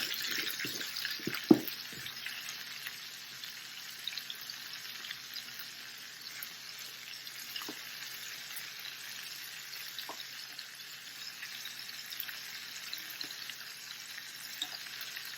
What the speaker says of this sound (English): And just go ahead and let those saute.